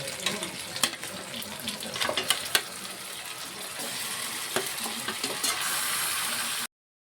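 Marinated chicken pieces for kasuri methi malai chicken are dropped into a hot pan, giving a steady close sizzle and hiss with scattered clicks and small clatters from placing pieces, then the frying continues evenly.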